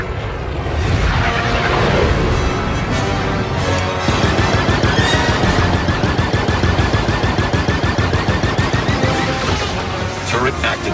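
Rapid turret gunfire rips through a space dogfight in Star Wars Outlaws, loud sustained bursts of blaster fire with dense repeating shots and engine roar, speech mixed in over the barrage.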